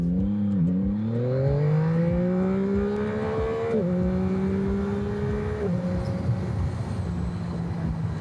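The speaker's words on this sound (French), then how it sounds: "Allez, 0 à 100 sur la MT-09," Yamaha MT-09 three-cylinder motorcycle, restricted for the A2 licence, accelerating from 0 to 100 km/h, engine pitch climbing through three gear changes, a steady rising drone heard from fairly close.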